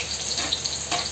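Garlic and onion sautéing in oil in a pan, a steady close sizzle with small crackling pops throughout, no talking.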